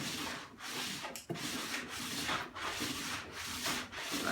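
A waxed wooden crosscut sled slides back and forth on a table saw, giving repeated rubbing strokes with brief pauses between them, close and clear with no talk.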